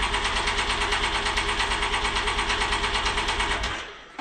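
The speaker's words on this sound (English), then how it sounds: "let me do another drown mode cycle for 5 seconds" A Can-Am Maverick X3 engine cranking in drown mode with its oil being changed: a loud, close, rapidly pulsing mechanical chug that runs steadily for about four seconds and then cuts off.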